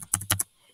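A quick burst of about five keystrokes on a school laptop keyboard, close and crisp, clattering in a brief uneven run before falling silent.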